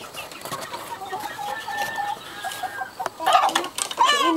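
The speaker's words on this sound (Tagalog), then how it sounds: "Ini sa mga manok na yan" Chickens clucking in a rural village setting, several birds with scattered clucks and short calls near and far, with some faint background voices.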